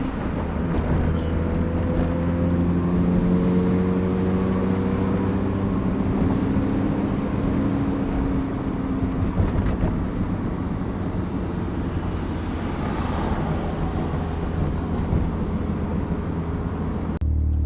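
A Mazda RX-7 FD with a rotary engine drives along a main road, its steady engine drone and road and wind rumble continuous and fairly loud, with the engine pitch shifting slightly as it picks up speed.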